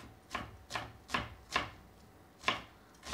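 A knife chops green onion (long negi) on a cutting board in six sharp, evenly spaced strokes about every 0.4 seconds, close and clear with no talking.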